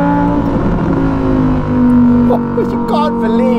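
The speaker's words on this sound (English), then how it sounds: "play your harp of love on this gorgeous exhaust note" A Novitec-tuned Lamborghini Huracan EVO with a 5.2-litre engine holds a loud, close, steady droning exhaust note, swelling slightly mid-way, with a voice briefly heard over it near the end.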